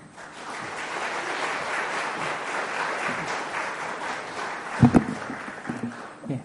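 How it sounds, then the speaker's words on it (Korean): A church congregation at a worship service claps in welcome for a pastor, a steady wash of applause lasting several seconds and ending with a few sharper, louder claps. "목사님 나오시게 될 때 환영의 박수를 해주시고"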